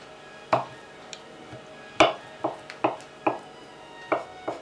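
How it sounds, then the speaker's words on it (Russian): Eggs chopped with a knife on a board for a salad: about seven sharp, close knocks at an irregular pace, alone with no talk. "Теперь мы будем резать яйца."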